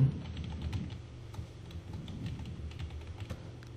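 Fast, steady typing on a computer keyboard while entering an installer name and organization during a Windows Server 2003 setup, close and continuous with irregular key clicks and no speech.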